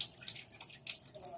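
Liquid poured into the bell section of a trombone to flush it out, heard as soft uneven splashing and dripping in short bursts, fairly faint and close.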